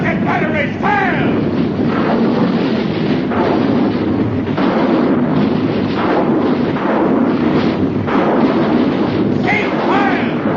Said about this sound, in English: Artillery batteries, fire! Rocket batteries, fire!